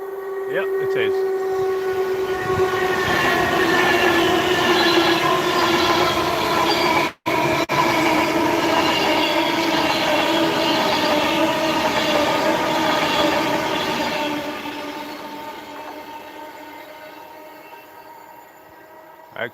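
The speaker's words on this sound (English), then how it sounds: "Probably a Pendolino." A Pendolino passenger train rushes past close by on the West Coast Main Line north of Crewe, a steady loud roar of wheels and rails with a tonal hum, fading away toward the end.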